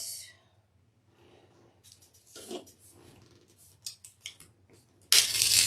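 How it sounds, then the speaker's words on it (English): Scissors snip through plain cardboard in a few short, crisp cuts, close up and fairly quiet, ending in a louder rustling burst. "you can just cut it with scissors"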